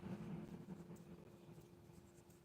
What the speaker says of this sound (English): Gonna just try to use the flat of the pencil.